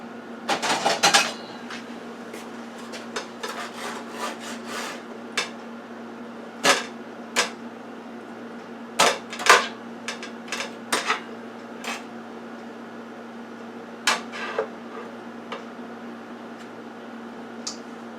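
A metal spatula turning strips of bacon on an air fryer oven tray, giving scattered short scraping and clinking taps against the tray over a steady low hum, with no talk.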